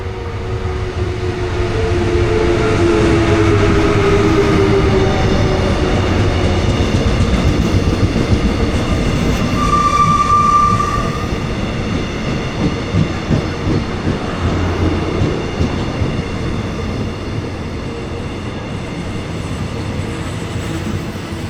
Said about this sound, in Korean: 경부선 무궁화호 1156열차를 타고 경산역에서 대전역까지 함께 달려보았습니다